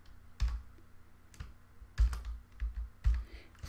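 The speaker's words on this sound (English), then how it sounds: "So I would type here HTTP" Keys pressed on a computer keyboard while a website address is entered, a handful of separate, fairly loud taps spaced out in an uneven rhythm, close by with no speech.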